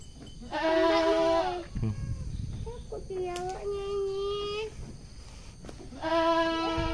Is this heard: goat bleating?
yes